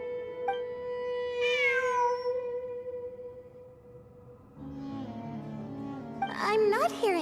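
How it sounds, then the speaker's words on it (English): A cat in the Genshin Impact video game meows in a couple of rising, wavering cries over steady game background music, with a brief chime early on. "It really is a cat."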